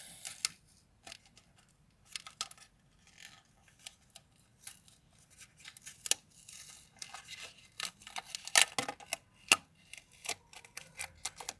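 Opening a handmade package brings scattered tearing, crinkling and paper handling sounds, quiet and close, in irregular bursts that grow busier toward the end.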